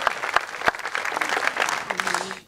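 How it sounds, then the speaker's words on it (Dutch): An audience at the Gennep revue in the Netherlands applauds the jury, many hands clapping in a lively, irregular patter with a few sharp claps standing out, before a brief voice-like tone and a quick fade. "Applaus voor mevrouw de burgemeester"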